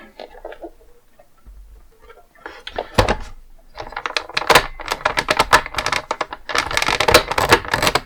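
Clicking from the steering mechanism of a G.I. Joe toy vehicle, a one-man battle station, heard as rapid close plastic clicks in bursts that grow denser toward the end.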